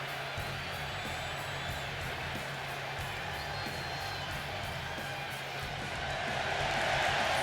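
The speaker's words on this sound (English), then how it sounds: "You can hear the crowd going wild." A wrestling arena crowd in the WWE 2K25 video game cheers and roars continuously, a dense, moderately loud wash of voices that swells slightly toward the end.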